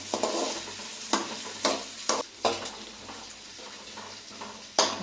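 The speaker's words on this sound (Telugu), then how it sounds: "ఆనియన్స్ బాగా రెడ్డిష్ బ్రౌన్ వచ్చేదాకా ఇలా ఫ్రై చేసుకోవాలి" Onions and green chillies fry in hot oil with a close, crackling sizzle, punctuated by several sharp clanks and scrapes as a spoon stirs the pan.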